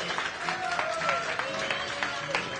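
Applause from a gathered audience at the inaugural ride of the Dorothy Day Staten Island ferry, a moderate, steady patter of clapping with faint tonal sounds and some murmur underneath.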